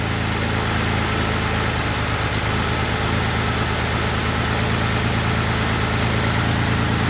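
A Mitsubishi 3000GT with a bad engine idles just after starting, a loud, close, continuous rumble with an even throbbing pulse and no talk over it.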